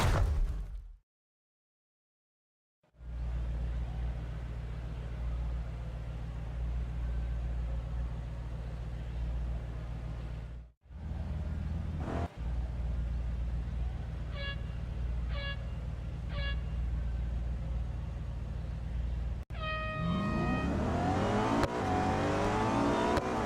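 A car engine in a Real Racing 3 drag race drones and revs steadily, loud and continuous, with a brief dropout, a few short horn-like tones midway and a rising whine of acceleration near the end.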